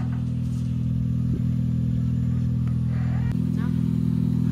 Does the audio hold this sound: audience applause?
no